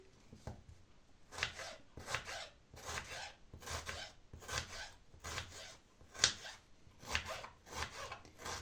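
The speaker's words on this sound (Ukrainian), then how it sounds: "ось так нарізаємо цибульку" Knife chopping onion on a board, a regular series of soft cuts in steady rhythm, close but fairly quiet, with no talking.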